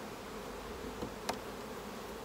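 Saskatraz honey bees buzz at an apiary hive, a faint continuous drone with a couple of brief louder passes close by.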